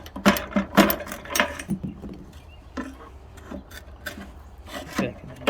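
A pry bar scrapes and knocks against a Suzuki GT80 motorcycle's frame and stuck engine, with close, irregular metallic rubbing and clunks in short bursts.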